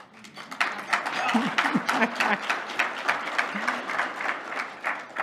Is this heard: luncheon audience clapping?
yes